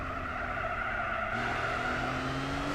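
A Honda NSX in Gran Turismo 4 pulls hard on full throttle, its engine a steady rising drone with a faint tyre squeal, close and continuous with no talk.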